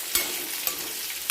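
Dry spices for a kuzhambu masala (red chillies, cinnamon, cloves, fennel, poppy seeds and curry leaves) sizzle softly in a pan, with a few sharp stirring scrapes standing out over the steady crackle.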